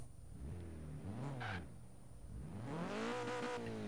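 The engine of a stock Nissan 240SX revs twice, rising and falling in pitch, then builds to a longer, louder rev near the end. It sounds fairly close, with no speech.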